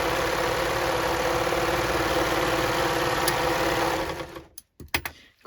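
A sewing machine runs steadily as it stitches a refashioned jacket, a loud, even mechanical whir that stops after about four seconds, leaving a few soft clicks and handling noises.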